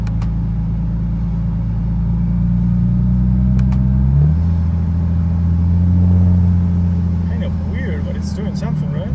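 A 2JZ-swapped Toyota GR86 engine drones loudly at steady revs, then shifts pitch and rises after a downshift, a continuous close rumble under interior cabin noise.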